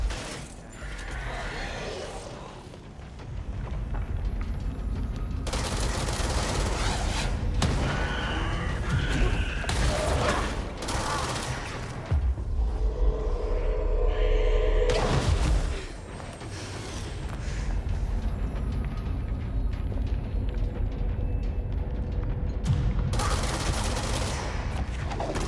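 Sniper gunfire and other shots ring out across a combat stretch in the video game Control, loud repeated bursts layered over mechanical clatter and a steady rumbling backdrop.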